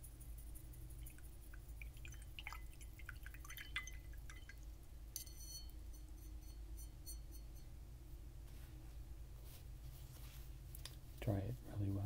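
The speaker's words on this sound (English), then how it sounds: "Wash off my brush again." A paintbrush rinsed in water during face painting, heard as soft, close drips and faint liquid swishing at a low, quiet level, with small tapping sounds and a brief louder splash near the end.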